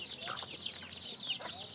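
Free-range chickens on a farm in Udon Thani, Thailand, fed on household leftovers, cluck and chatter steadily at close range, several birds overlapping in a busy, continuous flock murmur.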